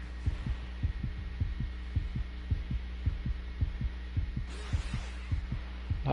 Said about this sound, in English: I hear this constant heartbeat.